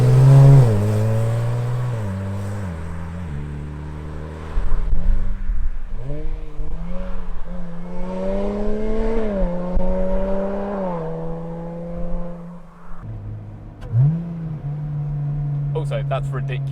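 A Lotus Exige 430 Cup tuned to 500 hp blips its engine through a series of rapid, smooth downshifts, each gear change jumping the revs in a loud stepped pattern heard from inside the car.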